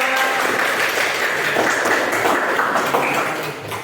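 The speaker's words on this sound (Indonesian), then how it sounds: "Terima kasih ya, tepuk tangan dulu." Classroom applause fills the room steadily for about four seconds, a dense wash of clapping hands that fades slightly toward the end, with no talking over it.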